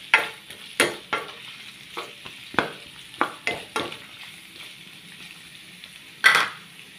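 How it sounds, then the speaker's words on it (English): Marinated lean pork stirred in a hot pan for a lunchbox dish: repeated scraping spatula strokes in an uneven rhythm over a steady background sizzle, close and fairly loud, with no talking. "Halo na natin siya."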